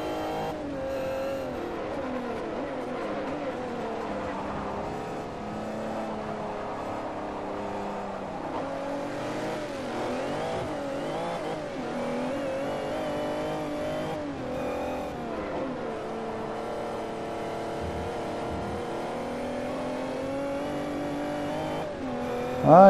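A race car engine in Forza 4 holds a loud sustained howl, pitch climbing and dropping through gear changes and corners over a long continuous run.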